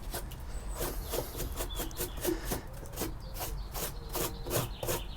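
Loose rust being brushed off the wheel arch of a Renault Master van, a steady, close scratchy rubbing with repeated bristle strokes running throughout.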